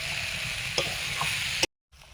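Desi chicken curry fries and sizzles in a pan with spices, a steady close hiss with faint stirring scrapes, cutting off abruptly before a brief return.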